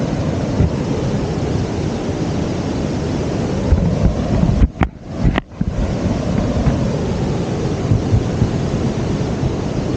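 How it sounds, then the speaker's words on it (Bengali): A strong river current rushes beneath a bridge, a loud, continuous roar of turbulent water mixed with wind buffeting, with brief dropouts midway. "এশিয়ার ব্রিজে যে জলটা নামছে স্রোত যে একদম ভয়ঙ্কর স্রোত"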